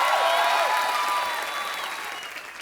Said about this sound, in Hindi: ताली बजाओ रे इंडियन आइडल पर।